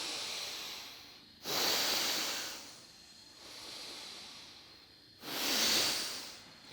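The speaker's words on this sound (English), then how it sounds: "You need to stop and do complete deep breathing, which is a yogic phenomena of like this." Slow yogic complete deep breathing, two long loud hissing inhalations or exhalations alternating with quieter breaths, close and alone with no talk.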